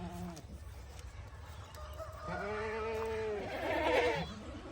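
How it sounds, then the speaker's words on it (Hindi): Several Daira Din Panah (DDP) goats bleat at a goat farm, with a few loud, wavering calls overlapping one another close by over a low farmyard background. "ये जी अल्हम्दुलिल्लाह सारी बकरियां हैं"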